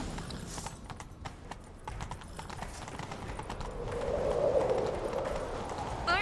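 Hooves of a horse galloping in the video game The Witcher 3, a steady rapid clip-clop running throughout over a rumbling game soundscape, growing slightly louder toward the end.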